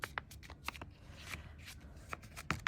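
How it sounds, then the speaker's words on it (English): A small, somewhat thick paper notebook is folded in half for a junk journal, giving a series of crisp, close paper rustles and creasing snaps in quick irregular bursts, with no speech. "I'm going to fold it in half"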